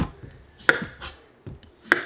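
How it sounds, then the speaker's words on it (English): A knife chops the ends off calabacitas squash on a cutting board: about five sharp, crisp cuts spaced irregularly, close and fairly quiet, with no talking. "I'm gonna chop off the ends"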